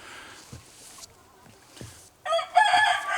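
A very young 3/4 Asil 1/4 Shamo cross cockerel gives a short, rough crow near the end, preceded by quieter scratchy sounds and soft thumps.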